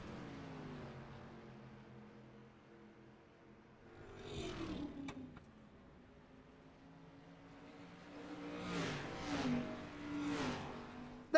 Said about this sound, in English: I'm going to turn down the actual sounds of the cars